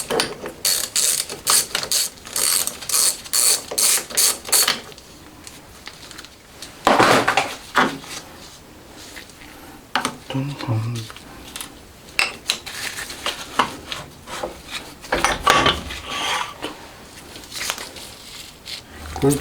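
Rapid ratcheting clicks and metallic clanks ring out up close as the handle is removed from a lathe while fitting a quick-change tool post, coming in repeated bursts with short pauses between.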